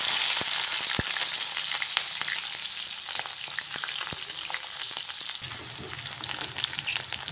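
Onions fry in refined oil for chow mein, producing a dense, steady sizzle up close, dotted with small clicks and pops, with a lower hum joining it near the end.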